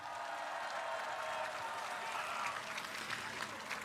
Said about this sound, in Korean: 우리 정은경 총괄선거대책위원장님께 다시 한번 큰 박수 부탁드립니다.